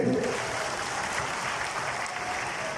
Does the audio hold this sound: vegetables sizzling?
no